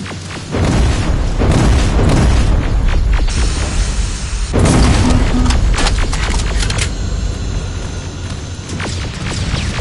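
Rockets explode in the video game Terminator Resistance, heavy booming blasts close and loud, several impacts in a row over rumbling background noise.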